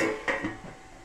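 A metal lid settles onto a cooking pot with a short clattering clink followed by a brief ringing rattle, close and quick.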